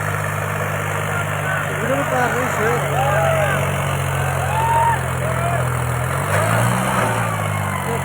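A tractor engine runs steadily at a trolley-pulling competition in Matti village, Mansa district, Punjab, a continuous loud drone with a deep rumble that shifts in pitch near the end, under an announcer talking over a crowd.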